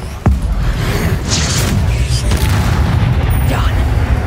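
A Confringo blasting spell explodes in Hogwarts Legacy: a sharp, loud burst followed by a rumbling boom and crackling debris, set within dense game combat noise and a voice calling out.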